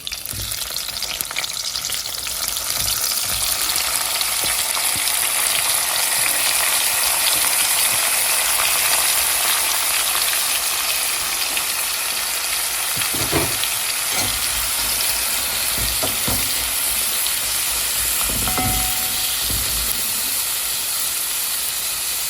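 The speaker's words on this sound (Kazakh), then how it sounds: "Енді осыны майда жақсылап қуырамыз." Eggs frying in hot oil in a black cauldron give a continuous, close, hissing sizzle for over twenty seconds, with a few brief clatters of stirring partway through and no voices.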